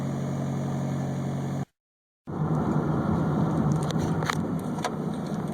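Toyota car engine running steadily on a first drive after a tachometer repair, a constant near drone with a brief dropout of silence midway and a few light clicks near the end.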